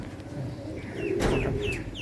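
A female pigeon coos softly among other birds, with faint clucks and chirps over a low, busy background murmur close by.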